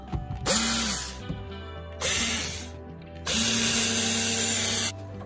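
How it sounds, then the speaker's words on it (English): A power drill whirs in three bursts while drilling a hole during an RV awning installation, the motor spinning up and winding down between them, close and loud. "Put a bit of pressure as I drill."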